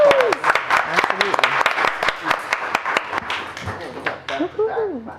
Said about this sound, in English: And that leaves a round of applause.